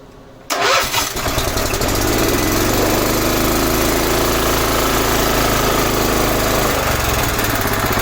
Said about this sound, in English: I'll let it run long enough to do that, kick down